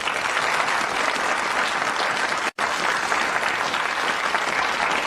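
Dense, continuous clapping from a TV game show studio audience during the Countdown final, steady and even with one momentary cut near the middle.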